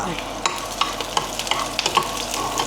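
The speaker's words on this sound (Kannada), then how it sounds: "ಫಸ್ಟು ಈರುಳ್ಳಿ ಹಾಕ್ಕೊಂಡು ಸ್ವಲ್ಪ ತುಂಬಾ ಬ್ರೌನ್ ಆಗಬೇಕಂತ ಏನಿಲ್ಲ" Onions fry and sizzle in a pan while being stirred, with a steady close hiss broken by repeated sharp scraping clicks of the spatula, loud and alone.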